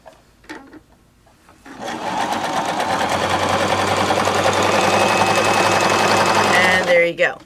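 A Baby Lock Zest sewing machine set to stitch A at length 2.5 starts up after a few faint clicks and runs in a loud, steady, rapid whir for about five seconds before stopping.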